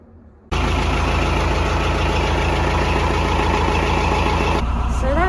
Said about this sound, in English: So that took about 6 attempts to start that engine